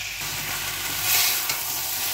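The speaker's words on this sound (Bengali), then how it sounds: "এবার আমি পেঁপেটাকে মশলার সাথে কিছুক্ষণ কষিয়ে নেব।" Raw papaya, potato, bori and peas fry with spices in a pan, giving a close, even sizzle with a soft swell of stirring partway through and no talk.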